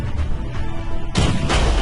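Explosive cannon fire from the Blackwake naval video game, with heavy low booms rumbling under the mix and a sharper burst cutting in about halfway, followed by another blast.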